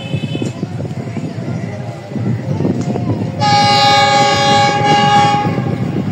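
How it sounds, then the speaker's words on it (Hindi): The Subah Khairam Express, train 103, rushes fast toward Muridke railway station. A rumbling, rattling approach builds until a loud, sustained multi-tone horn blares for about two seconds, with voices audible in the background. "सामने से आने वाली ट्रेन 103 अब सुबह खराम एक्सप्रेस, जो कि बहुत ही तेज़ रफ्तारी से मुरीद के रेलवे स्टेशन की तरफ बढ़ते हुए"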